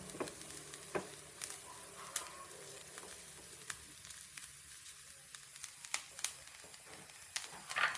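Grated coconut dry-roasts in a pan, making a faint, close crackle and sizzle with scattered sharp ticks and light scraping stirs, quiet overall and with no voices.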